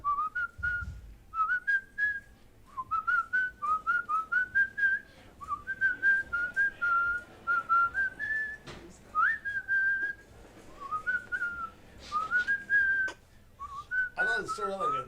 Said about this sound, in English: Would you like to whistle a tune that you hold deep in your heart?